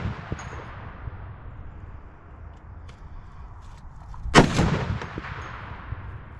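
A .50 caliber rifle round slams into an outdoor concrete block during demolition shooting, one sharp loud crack and impact near the middle over steady wind-like background rumble.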